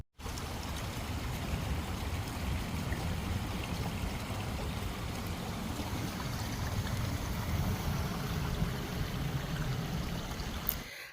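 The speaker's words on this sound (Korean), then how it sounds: "바로 저희 단지 앞에 다 도착이 되어서 이렇게 계곡물 소리 잠시 들어보겠습니다" Water rushes down a clear mountain valley stream in a steady, broad, uninterrupted gush, moderately loud and close, with no speech over it.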